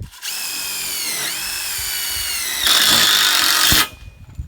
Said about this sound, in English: we're going to put a screw in, self-tapper in, so they don't come apart like they were.